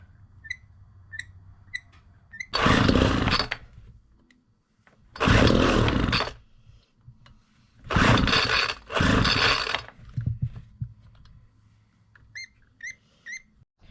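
A Homelite Backpacker leaf blower's small two-stroke engine, just refitted with a swapped carburetor, is pulled over in four loud one-second bursts. Each attempt fails to catch, leaving quiet gaps with light ticking in between.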